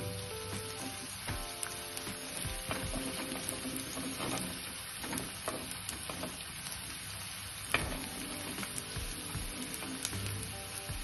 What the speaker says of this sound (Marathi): आता यामध्ये मी बारीक चिरलेली फ्रेंच बीन्स घालून घेते। ही साधारण अशी परतून घ्यायची आहे।